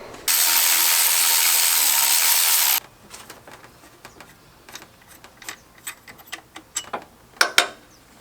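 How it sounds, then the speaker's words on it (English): A ratchet wrench works loose the 10 or 12 mm bolts holding a car's alternator, beginning with a long, steady rasp of rapid clicks, then a quieter run of scattered sharp ticks and knocks close by. "unbolt the alternator, which is also 3 12mm bolts"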